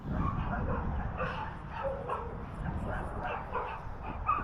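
A puppy barks and yips in quick, excited bursts, fairly close and mixed with whimpering over a steady background rumble.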